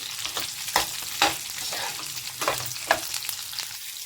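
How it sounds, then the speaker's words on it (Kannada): Sliced bitter gourd frying in hot oil, a continuous close sizzle broken by several scraping stir strokes of a spatula against the pan at irregular intervals, no talking. "ಈ ರೀತಿ ಚೆನ್ನಾಗಿ ಆಯಿಲಲ್ಲೇ ಚೆನ್ನಾಗಿ ಫ್ರೈ ಮಾಡ್ಕೊಳ್ಳೋಣ"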